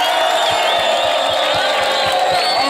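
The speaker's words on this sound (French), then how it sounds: "Applaudissez pour le Congo." A large outdoor rally crowd in Bukavu cheers and whoops for Congo, a loud continuous roar with shrill, wavering cries above it and a regular pulsing beat underneath.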